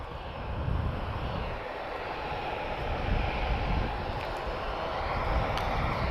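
An Airbus A330 turning onto a taxiway at Lisbon Airport gives a continuous jet-engine rumble and hiss, steady and moderately loud with slight swells in intensity, heard alone with no talking.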